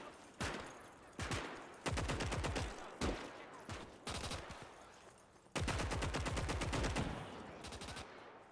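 Automatic weapons fire in a Gates of Hell city battle between Soviet and German forces, with repeated loud bursts of rapid machine-gun rounds and single cracks, close and continuous over several seconds.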